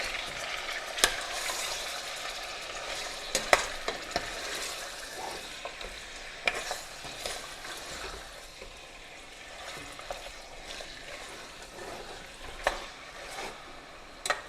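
Aloo mutton gosht frying in a pan, a continuous hissing sizzle with repeated scraping and clacking of a spoon as the meat and potatoes are stirred, close and steady, with no talking.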